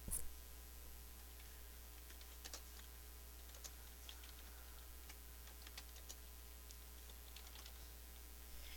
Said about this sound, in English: see, I can type anything